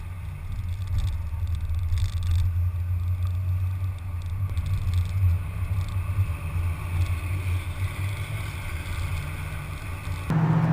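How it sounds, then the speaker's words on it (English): A blue 1965 Ford Mustang cruising northbound on a freeway, heard as a steady low engine drone with road and wind rumble that holds for about ten seconds before a short shift in tone at the end. "you can see this Mustang going down the freeway"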